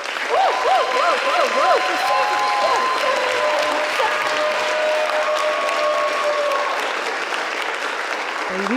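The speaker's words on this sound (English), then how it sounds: "Let's give her a massive whooping round of applause." An audience at a sustainability storytelling panel event in New York bursts into sustained, loud applause welcoming the panel host, with whoops and cheers riding over the clapping throughout.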